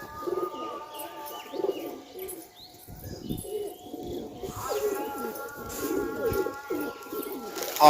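Madrasi pigeons kept at home coo softly in several low, rolling calls, with chirps and a few brief voices mixed in nearby.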